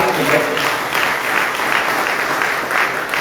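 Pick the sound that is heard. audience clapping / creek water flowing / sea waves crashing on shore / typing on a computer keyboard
audience clapping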